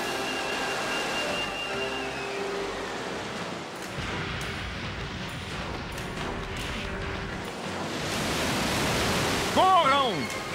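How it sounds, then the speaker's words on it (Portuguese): Released water rushes in an animated film, a broad, loud roar that swells toward the end, with a few rising cartoon whistles and brief shouts mixed in. "Nós soltamos a água."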